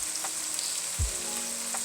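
Tomatoes and garlic are added to browned onions frying for daal tadka, giving a steady sizzle with a brief low thump partway through. No one speaks over the continuous frying.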